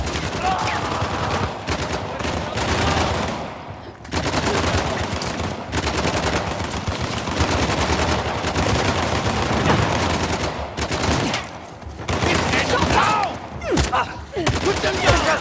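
Sustained loud gunfire in the video game Uncharted: The Lost Legacy, dense rapid shots and bursts throughout with brief pauses, voices shouting over the battle.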